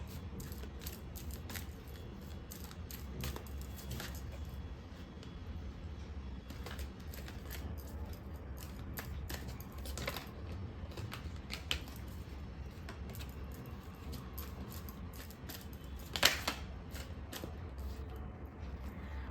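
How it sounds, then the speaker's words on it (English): Tarot cards being shuffled and pulled from a deck, heard as faint, close, irregular soft clicks and riffling taps over a quiet room hum, with no talking. "let's pull out few cards, few tarot cards"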